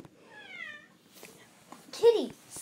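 A pet cat meows indoors, one drawn-out meow near the start, then a louder, sharper meow near the end, with faint voice sounds between.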